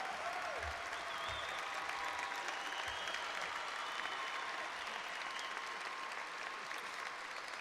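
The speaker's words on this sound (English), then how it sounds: "I want everyone to give these folks a big round of applause" A large graduation crowd at Roosevelt High School gives staff a sustained, steady round of applause, a dense wash of clapping heard from some distance.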